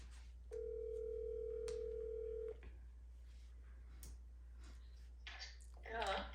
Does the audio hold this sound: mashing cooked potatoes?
no